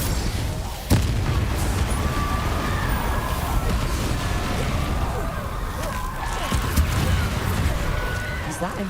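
Confringo and Incendio spells blast in Hogwarts Legacy, with a sharp boom near the start and another later, set against a continuous roaring, crackling wash of fire and battle noise.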